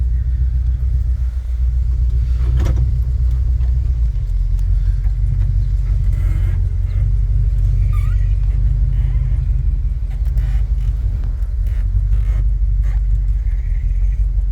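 A 1977 Ford F150 Ranger pickup with a 460 V8 engine drives along, its deep, steady low rumble filling the cab with occasional faint knocks and rattles.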